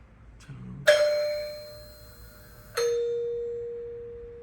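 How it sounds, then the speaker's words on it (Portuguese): A two-tone doorbell chime rings twice, each bright tone ringing out and decaying slowly in a quiet room; a faint knock-like thud comes just before. "olha a campainha"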